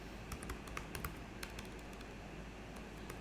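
Typing on a computer keyboard, quiet irregular key clicks in short clusters over a low background hum, heard alone.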